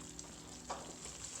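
Semolina roasts in ghee in a pan, making a faint, steady frying sizzle with a soft stirring scrape, close by and with no voices.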